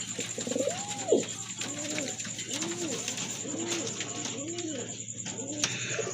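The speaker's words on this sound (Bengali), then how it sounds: "এই যে দেখেন এটা কিন্তু আপনার খুবই সুন্দর এক জোড়া কবুতর" A pair of large fancy pigeons coos repeatedly in a steady rhythm of rising and falling calls, close and clear, with someone talking over them and a faint constant hum behind.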